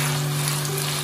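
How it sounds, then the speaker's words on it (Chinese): Tofu pan-frying on its second side, giving a steady, even sizzle that holds at constant loudness throughout, with a low electrical hum underneath and no voices. "把另一面也煎至个一到两分钟左右，大概煎至两分钟"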